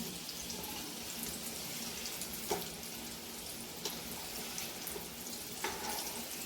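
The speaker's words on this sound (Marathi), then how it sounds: "या अशा पद्धतीने सगळे आपण मोदक तळून घेणार आहोत." Purnache modak, sweet stuffed dumplings, fry four or five at a time in hot oil. The close hiss is steady throughout, broken by a few faint pops, and no one speaks.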